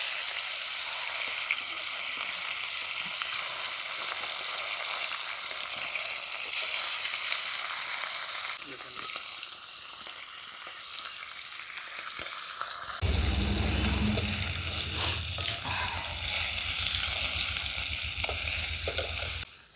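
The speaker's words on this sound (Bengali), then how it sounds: "এরপর আমি এই যে তেলেপিয়া মাছগুলো নুন হলুদ মাখিয়ে রেখেছিলাম, সেই মাছগুলো দিয়ে দিচ্ছি।" Tilapia fish rubbed with salt and turmeric sizzles loudly in hot oil, a steady frying hiss throughout that jumps louder and denser as the fish go into the pan near the end.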